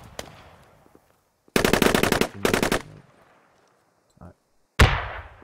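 Bursts of suppressing gunfire in the tactical shooter game Squad: two loud, rapid volleys close together, a brief thud, then a sharp final blast, with a player speaking briefly at the start.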